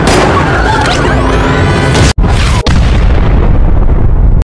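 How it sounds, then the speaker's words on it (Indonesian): A loud, sustained explosion as intruders blast through a fence around the White House in an action movie, a dense roaring boom with two brief dropouts before the rumble continues and abruptly cuts off. "mereka berhasil menerobos pagar dan membuat ledakan agar situasi menjadi kacau"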